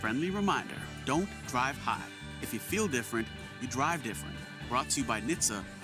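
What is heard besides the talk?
No everyday noise stands out behind the speech.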